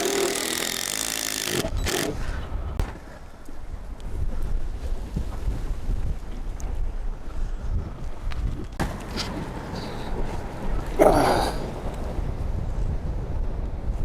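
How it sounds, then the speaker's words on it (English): Strong gusting wind buffets a microphone outdoors at a wooden greenhouse framing site, a heavy low rumble that roars loudest in an opening burst and keeps surging unevenly throughout. "Now, because it's so extremely windy today, I'm going to brace these as I go."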